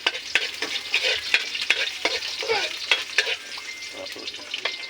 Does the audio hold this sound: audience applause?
no